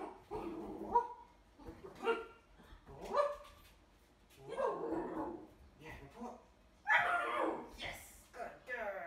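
A Vizsla dog gives a series of low growls and groaning vocalizations in bursts, fairly close and moderately loud, with short pauses between them and no talk.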